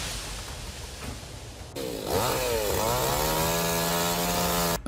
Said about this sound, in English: The sound of a chainsaw is always a mix of gentleness